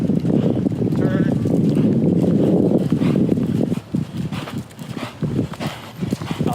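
Hooves of a ridden horse thud in a steady rhythm on soft ground beneath a loud, continuous wash of arena noise, with a voice speaking now and then.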